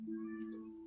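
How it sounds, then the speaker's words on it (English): A pet cat gives a single drawn-out meow, close and clear, with a steady tonal pitch that rises briefly in the middle, heard alone without talk. "it's my vocal cat, sorry, she talks a lot."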